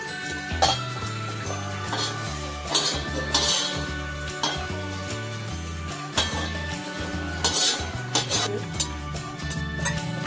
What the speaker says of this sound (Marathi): मस्त खोबऱ्याला अगदी लालसर रंग आलेला आहे आणि आपण याला काढून घेणार आहोत